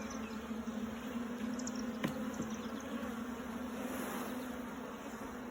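Honey bees humming around an open hive frame, a steady low drone of many wings at close range, with a brief sharp knock partway through.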